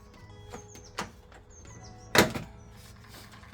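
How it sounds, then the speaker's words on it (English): A plastic headlight trim piece is unclipped at its tabs and pulled free, giving a couple of sharp plastic snaps and one louder clack over a quiet room with faint background chirps. "I've just got to release the tabs on this end, and it just pulls off."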